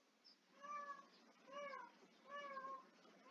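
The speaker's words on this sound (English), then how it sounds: "The cat is meowing." A cat meows three times in the Geneforge 1 role-playing game, each call drawn out and evenly spaced, clear and fairly close against a quiet background.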